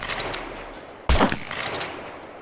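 A single unsuppressed 12 gauge shotgun blast in SCUM, one loud, abrupt boom about a second in that decays with a short echoing tail over quieter ambient noise.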